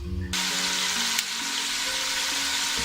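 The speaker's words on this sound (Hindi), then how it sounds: "इसमें मसाले डाल के अब हम भून रहे हैं" Spices hit a pan with browned garlic for kadhi pakora and burst into a loud, continuous sizzle that holds steady after a quiet start, with a faint low hum underneath.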